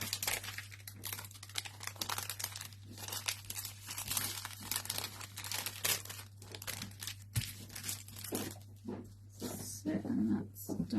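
Scraps of foil from hot foiling are handled close by, crinkling and rustling continuously in dense bursts over a low, steady electrical hum.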